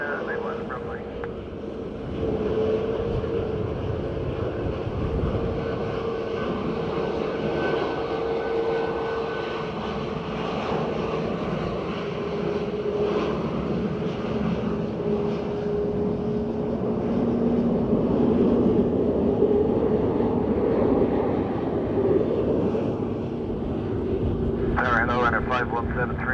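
A Ryanair jet airliner lands on runway 28 left at Dublin Airport on a windy morning, a loud, sustained engine roar with droning tones that swells slightly midway, with voices talking over it.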